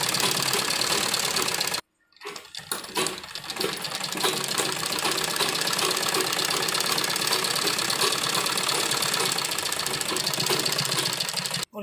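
A sewing machine runs continuously stitching the round collar of a school uniform, a steady fast whirring chatter that pauses briefly near the start and then resumes at full speed.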